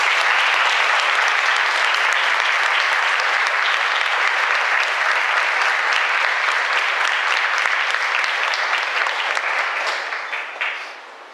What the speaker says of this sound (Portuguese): Palmas para o Santo Evangelho.